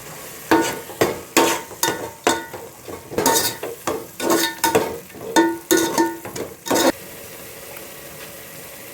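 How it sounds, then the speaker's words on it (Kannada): Biryani masala with yogurt is stirred and fried in a pan: a series of loud, close scraping strokes of a spoon against the pan over a soft sizzle, then quieter at the end. "ಇವಾಗ ಮಸಾಲೆ ಹಾಕಿ ಚೆನ್ನಾಗಿ ಫ್ರೈ ಮಾಡ್ಕೊಬೇಕು"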